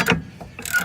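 Ratchet clicking as it turns the 12mm bolt behind the stabilizer on the rear brake of a 2012 Hyundai Sonata, two short bursts of close mechanical clatter about half a second apart, with no talk.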